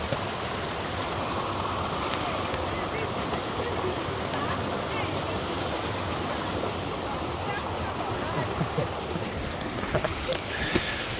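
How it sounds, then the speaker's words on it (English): River water rushing steadily near a rice-growing area, a broad continuous roar close by, with a few faint clicks and knocks near the end. "This is the water that is making lots of noise here."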